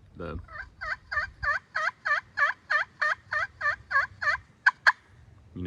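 A slate pot turkey call is played to imitate a wild turkey, giving a long run of about fifteen evenly spaced, loud yelps followed by two sharp higher clucks, close and clear with no talking.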